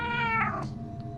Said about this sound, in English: low meow.